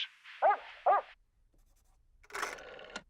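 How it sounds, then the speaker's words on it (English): A dog barks twice in quick succession, close and clear, followed by a brief muffled rustle of other sound. "A dog says."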